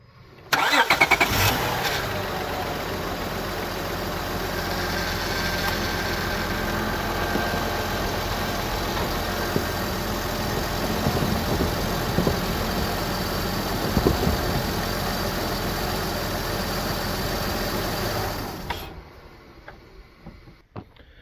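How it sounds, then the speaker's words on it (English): A Honda Odyssey van's engine cranks and catches, then settles into a steady, low idle for about eighteen seconds before shutting off, heard close with no talking. "We'll start the van up, and we'll see how it looks."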